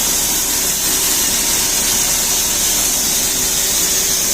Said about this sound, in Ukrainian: Такий у нас вентилятор стоїть.